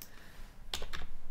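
A few sharp keystrokes on a computer keyboard during bookkeeping data entry, three or four close clicks after a short quiet gap, with no voices.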